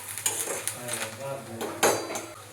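Onion frying in a pan for matar paneer, stirred with a metal spoon that clinks and scrapes against the pan in several close knocks over a soft steady sizzle.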